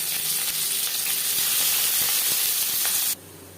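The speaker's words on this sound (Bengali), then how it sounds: "চার চামচ রিফাইন্ড অয়েল গরম করে নেওয়ার পর দিয়ে দেবো পেঁয়াজ কুচি" Chopped onion drops into four spoons of hot refined oil, producing a loud, dense, continuous sizzle close by that stops abruptly near the end.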